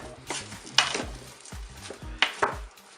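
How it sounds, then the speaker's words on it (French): A spoon stirring tomatoes and rice inside a Cookeo multicooker pot, giving a few distinct scrapes and knocks against the pot, close and fairly clear. "Je vais bien mélanger."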